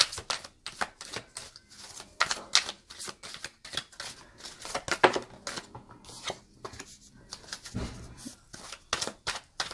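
Tarot and oracle cards are shuffled and drawn close up: rapid papery riffles and flicks in irregular bursts, with sharper slaps between them and no talking.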